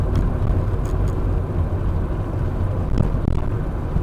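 A car driving into Hetton town centre on a Saturday afternoon: steady interior road rumble and engine hum throughout, with a couple of faint clicks, no talking.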